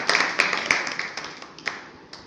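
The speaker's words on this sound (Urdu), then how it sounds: "زوردار ان کے لیے تالیاں بجائیں" Audience applause at a theological school program in Sargodha, a burst of hand clapping with sharp overlapping claps that thins out over about two seconds.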